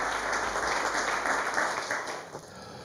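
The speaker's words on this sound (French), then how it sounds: "on peut déjà l'applaudir" An audience at an awards ceremony for entrepreneurship laureates gives sustained applause, dense clapping that holds steady and then eases slightly toward the end, with no voices over it.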